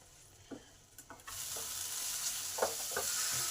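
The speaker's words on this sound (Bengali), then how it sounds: "এই সমস্ত মশলা ভালো করে কষে নেব 3 থেকে 4 মিনিট" Onion, tomato and spice paste sizzles and fries steadily in hot oil while being stirred, with soft scraping stir strokes rising above a constant close hiss.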